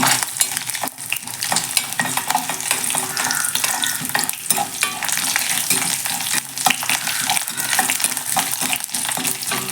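Mustard seeds and chana dal frying in oil in a kadai, a dense, continuous sizzle with sharp crackles and pops scattered throughout, close and loud, with no voices.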